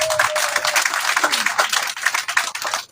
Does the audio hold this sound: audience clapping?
yes